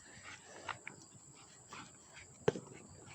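Puppies whimper and yip in several soft, brief bursts at close range, with a sharper louder yelp near the end, over low indoor background noise.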